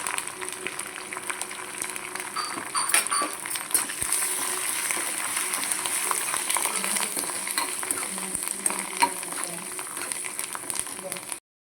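Steady hiss of garlic, curry leaves and asafoetida sizzling in hot oil as a tempering, continuous and close, with occasional clinks and stirring sounds and faint voices underneath.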